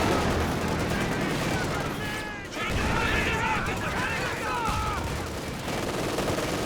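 Battle sounds from Company of Heroes 2 during a 1v1 match: dense continuous gunfire and artillery barrage rumble, with a brief dip partway through, under a commentator's voice.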